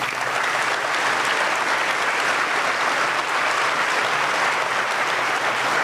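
Sustained applause from an audience at a Veterans Day ceremony honoring veterans, loud and dense, steady throughout with no voices.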